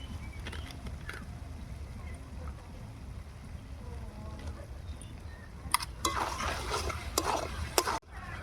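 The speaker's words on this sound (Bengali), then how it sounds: "চিকেনটা কষানো হয়ে গেছে, এবার একটু গরম মশলা দিয়ে নামিয়ে দেবো।" Chicken cooks in a kadai, nearly done and being stirred, with a faint steady sizzle, then louder spatula scrapes and clatters near the end.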